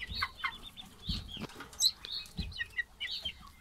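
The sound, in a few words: Muscovy duckling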